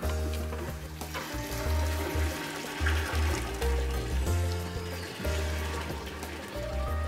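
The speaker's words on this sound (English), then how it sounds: "we're getting some more water and go-go juice in here" Water gushes and splashes into a sprayer tank under a low rumbling engine hum, a steady pour with the machine drone pulsing in the background, early morning at a food plot.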